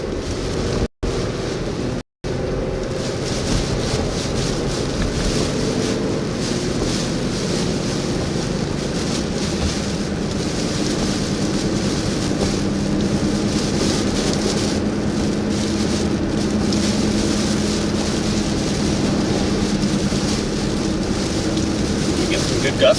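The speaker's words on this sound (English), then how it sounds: "Man, it's pretty windy up here." Strong wind gusts buffet the microphone during a storm chase under a shelf cloud, a constant loud rushing roar that swells and eases, with occasional speech faintly under it.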